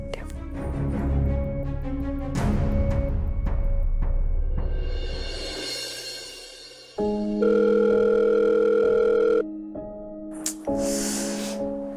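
Electronic phone tones and a sustained ringing or dial tone play repeatedly with no one picking up, alongside brief rustling and breathing sounds.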